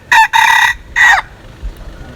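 A rooster crows nearby, loud and clear, in three short bursts in quick succession, then goes quiet against faint background noise.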